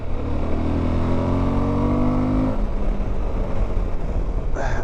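Suzuki V-Strom 1050 motorcycle engine pulling hard under acceleration, a loud close rising growl with climbing harmonics that drops away after a few seconds into steady wind-rushed road noise.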